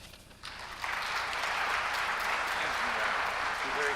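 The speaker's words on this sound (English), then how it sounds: "let's give him a round of applause" Audience applause fills the Hilbert Circle Theater in Indianapolis at a State of Downtown event. A brief murmur gives way to loud, sustained clapping from a large crowd that keeps going to the end.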